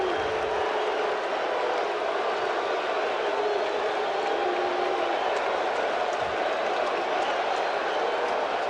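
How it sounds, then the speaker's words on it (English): A baseball stadium crowd roars at the 1986 World Series Game 6 between the Red Sox and Mets, a dense, steady wash of cheering that holds at full volume throughout with no letup. "And this crowd going wild."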